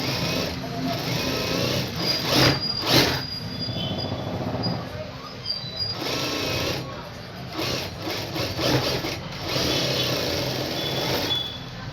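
A sewing machine stitches a blouse lining in a long rattling run, pausing briefly and starting again, close and fairly loud.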